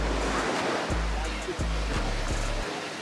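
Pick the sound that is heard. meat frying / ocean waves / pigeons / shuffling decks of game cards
ocean waves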